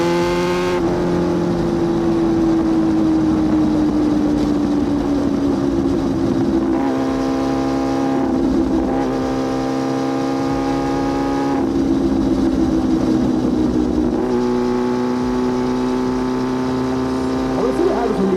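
A loud Yamaha R6 sport motorcycle rides continuously, its engine holding a steady high-pitched drone that shifts in pitch as it accelerates and settles, with wind rush underneath throughout.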